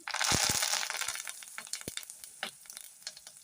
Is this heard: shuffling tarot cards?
no